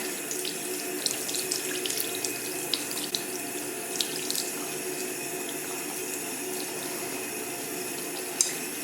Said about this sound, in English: Then I'll rinse again